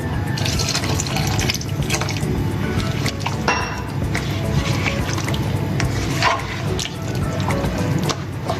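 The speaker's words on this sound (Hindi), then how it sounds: "और 1 कप हम इसके अंदर पानी ऐड करेंगे।" Water is poured into a pot of chickpea curry, one cup's worth, making a steady, close splashing and trickling of liquid that runs continuously throughout with small drips.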